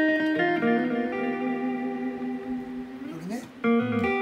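Electric guitar notes ring out drenched in heavy echo and reverb, with a tremolo-arm pitch bend near the end before a new chord.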